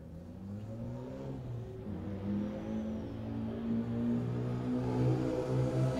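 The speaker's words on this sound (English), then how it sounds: "There goes Roy in his Dodge Viper ACR." Dodge Viper ACR race car on the Buttonwillow track during a time-attack event, a steady engine roar from a distance that swells gradually as it accelerates past, with no voices.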